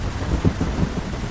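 Steady rain falls with low rolling thunder rumbling through it in a Hindi story scene, a dense continuous wash with soft swells of rumble and no voices.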